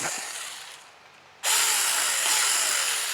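A TOMYVIC 6-inch cordless electric mini chainsaw idles quietly, then abruptly revs into a loud, steady high-pitched whine as the chain cuts through wood, sustained to the end.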